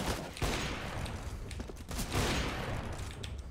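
Gunfire in a competitive Counter-Strike: Global Offensive match, with rapid bursts of shots cracking in dense clusters, a sharp shot near the start and a heavier volley around the middle, loud and continuous without speech.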